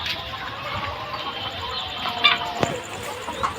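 Chickens inside a closed farm house give faint, scattered clucks over a low background, with one brief sharp knock partway through.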